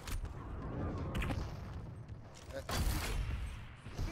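Rapid machine gun fire from Quake Champions, a sustained loud burst of shots nearly filling the clip with heavier impacts near the start and middle, mixed under game noise.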